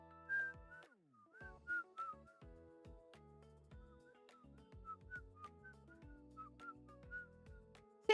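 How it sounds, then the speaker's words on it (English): A person whistles a lively tune of short, clear, wavering notes, close and fairly quiet, with brief pauses between phrases. "See, I told you I could whistle."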